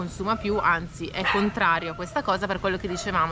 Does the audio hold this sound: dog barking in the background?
yes